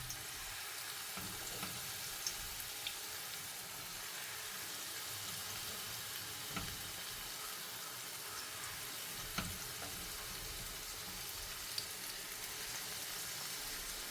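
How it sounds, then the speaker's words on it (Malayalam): Banana fry sizzling in hot oil in a home kitchen: a steady, soft crackle and hiss runs throughout, with occasional faint clicks of a utensil, quiet and close with no talking. "ഒന്നുകൂടെ പൊരിച്ചെടുക്കാം."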